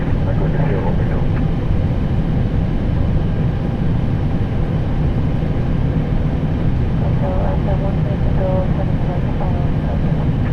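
An Aer Lingus Airbus A320 takes off, its engines a loud, steady roar heard from the flight deck throughout, with faint radio voices under the noise.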